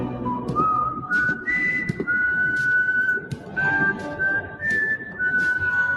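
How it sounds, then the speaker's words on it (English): Someone whistles a clear, sliding melody in long held notes, loud and close, with faint background sounds and brief gaps between phrases. "They had me at the first whistle."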